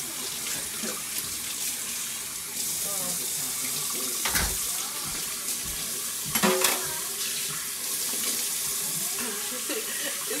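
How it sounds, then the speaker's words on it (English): A sink tap runs steadily as makeup is washed off a face. Close splashes from hands in the water cut through the hiss, and faint voices are heard. "I was wondering if you guys would have liked to see this get washed off my face."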